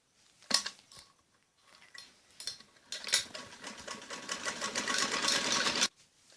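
A sewing machine stitches an umbrella frock, starting with a few scattered clicks and taps, then running in one steady, fairly loud burst for about three seconds before stopping abruptly.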